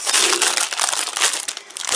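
Packing tape and plastic wrapping crinkle and crackle continuously as a 2020 Moonshine Jungle David Adonis doll by Mizi is unboxed, a dense close-up rustle with no pauses.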